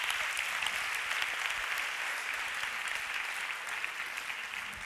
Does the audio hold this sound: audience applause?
yes